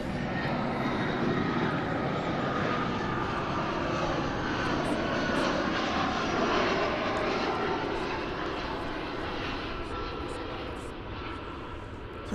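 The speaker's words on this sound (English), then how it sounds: "It's an Airbus A320." An Airbus A320 arriving at DFW Airport roars steadily as a continuous, broad engine rumble that holds strong throughout, easing only slightly toward the end.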